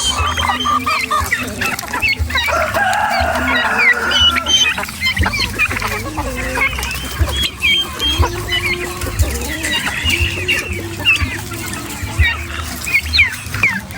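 Free-range chickens and roosters, with turkeys among them, cluck steadily and crow now and then as they roam loose on a backyard farm, a busy, continuous mix of calls near and far.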